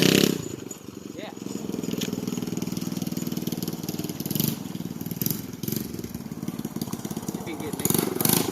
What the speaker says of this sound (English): Like I said, the muffler is about off of it, but it's still running.